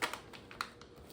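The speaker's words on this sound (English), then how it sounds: "shuffling some parts" RC car parts for a scratch-built Slash, including steel pins and CVDs, clatter and tap in a box in a few sharp, irregular clicks, close and fairly quiet.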